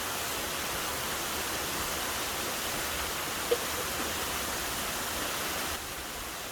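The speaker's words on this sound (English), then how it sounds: "listen to the sounds of the middle of the Three Sisters waterfall" Three Sisters Falls near Julian, California, pours steadily, heard from the middle of the falls as a dense, even rushing of water. It stays loud and unbroken throughout with no voices.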